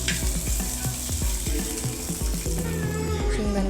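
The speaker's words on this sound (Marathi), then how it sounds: "आपण शेंगदाणे टाकणार आहोत शेंगदाण्याला पण थोडंसं भाजून घ्यायचं" Peanuts roasting in a hot pan for village-style thecha, giving a steady loud sizzle and frying crackle with repeated scraping and stirring knocks, close up and with no voices.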